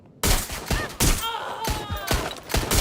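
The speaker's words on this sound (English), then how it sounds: "They're shooting at us!" Gunfire in Watch Dogs Legion: a rapid series of sharp, loud shots bursting in after a brief quiet start, with several clustered reports and echoing tails across the whole stretch.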